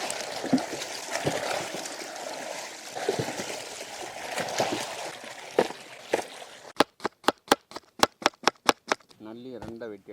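Beef shank bones are rinsed by hand, with water splashing and sloshing in irregular bursts, then a quick run of sharp, evenly spaced knocks, close by.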